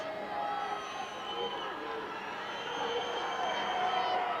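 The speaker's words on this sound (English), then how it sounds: "Crowd getting loud" Crowd at a high school football game, a sustained wash of cheering and babble that slowly swells louder, with a commentator talking over it.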